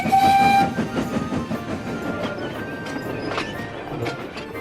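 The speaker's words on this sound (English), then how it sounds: "Rebecca coupled up and set off." A train rumbles and clanks as it gets moving, with a brief whistle at the start and rhythmic rail noise continuing throughout.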